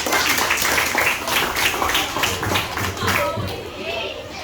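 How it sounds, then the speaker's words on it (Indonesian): A group of elementary school children in a classroom claps together in a sustained burst of applause, with voices chattering underneath. "Kasih tepuk tangan dulu untuk kelompok."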